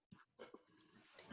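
A dog on a team phone call gives a few short whimpering, grunting noises, faint and brief, heard over the line with no clear talk.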